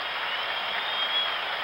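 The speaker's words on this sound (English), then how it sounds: "And the crowd loves it." A baseball crowd at a 1975 World Series game applauds a double play, a brief, dense wash of steady clapping and cheering with no single voice standing out.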